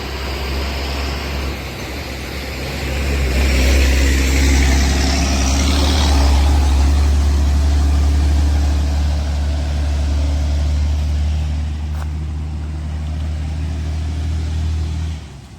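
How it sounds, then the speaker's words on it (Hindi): A vehicle crosses a cracked, sunken road near a damaged bridge on the Dantewada–Kirandul route, its engine a steady low rumble that swells in the middle and holds close throughout, with no talk. "एक गाड़ी पार हो रही है, किस तरह से पार होगी।"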